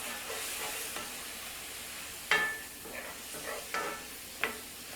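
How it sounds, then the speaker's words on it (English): Breakfast sausage and spinach frying as maple syrup goes in, a soft steady sizzle broken by several sharp scrapes and clinks of stirring against the pan. "here goes a little maple syrup, which I'm going to stir in, hopefully before it burns"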